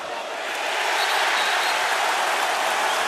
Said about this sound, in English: the crowd here at Cassell Coliseum in all orange is excited about the start of the Hokies